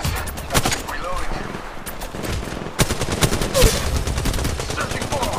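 Gunfire in Apex Legends: dense, rapid automatic bursts crackle almost without pause, loud and close, with a few heavier shots standing out.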